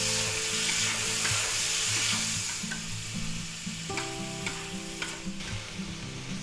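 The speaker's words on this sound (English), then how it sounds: "we're going to put that in the pan. We're going to stir that around." Minced garlic sizzling loudly in a pan, stirred around with a utensil, bright continuous frying hiss over a low background hum, with scraping strokes and clinks growing more frequent.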